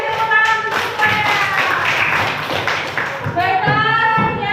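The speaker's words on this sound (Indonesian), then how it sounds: "kasih tepuk tangan untuk semuanya" A classroom of students claps hands together, a busy, overlapping patter of close claps, with voices and bright vocal sounds mixed in throughout.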